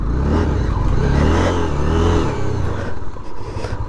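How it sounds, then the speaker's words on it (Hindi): Honda motorcycle pulling away under hard throttle, a loud, close engine rising steadily in pitch for a few seconds before easing slightly, with no talk over it. "एक बार थोड़ा सा हार्ड थ्रॉटल लेके देखते हैं।"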